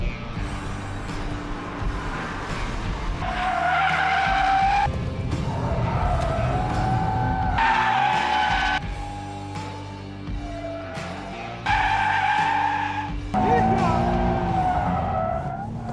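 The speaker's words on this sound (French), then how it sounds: "Du vrai drift. du vrai drift." Toyota GT86 drifting on a race circuit at Lurcy-Lévis, with several long, loud tire squeals rising and falling over a steady engine roar, heard from inside the car.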